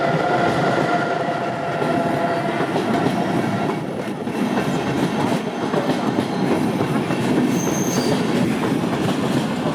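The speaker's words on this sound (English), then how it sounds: "Here comes a train." A train rumbles and clatters steadily across the railway bridge over the Rhine at Cologne, loud and close, with a brief high wheel squeal and no talking.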